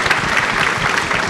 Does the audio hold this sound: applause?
yes